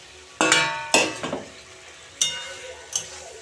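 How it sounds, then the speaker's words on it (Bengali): Fried potatoes going into spiced hot oil and being stirred, with several sharp bursts of sizzling and scraping, each spiking loudly and then fading, close by with no talking. "এখন আমি ভাজা আলুগুলো দিয়ে দেব"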